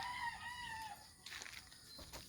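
A rooster crows once, faint and somewhat distant, followed by a few soft clucks.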